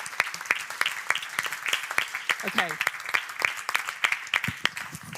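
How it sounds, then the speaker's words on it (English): A round-table session audience gives itself a round of applause, sparse uneven clapping that mixes with a speaker talking over it throughout. "now give yourselves a big round of applause"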